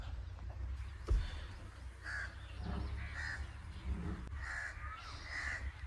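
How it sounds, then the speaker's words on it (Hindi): Crows caw a few times in short bursts, some overlapping, fairly faint over a low outdoor rumble. "कौओं की आवाज़ आ रही है, चिड़ियों की आ रही है।"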